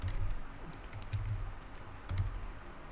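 Keys clatter on a computer keyboard in quick, uneven bursts of close typing, with no voices.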